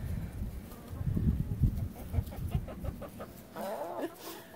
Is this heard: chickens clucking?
yes